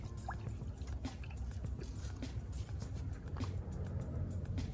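Two liters of soda glug and splash steadily into a container, close and fairly soft, a continuous liquid pour with small drips and sloshes and no voices.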